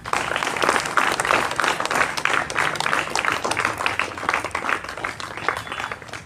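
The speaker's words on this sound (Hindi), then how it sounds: "एक बार इनके लिए फिर जोर से ताली बजाइए" Sustained audience clapping for students, a steady rippling applause of many hands, moderately loud and continuous, with a low hum of voices beneath.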